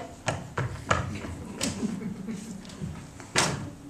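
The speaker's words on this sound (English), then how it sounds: "he disappeared into the house and slammed the screen door behind him" A screen door slams shut at the entrance of a house, heard as several sharp wooden bangs spread over a few seconds, with one last loud clap near the end against faint background noise.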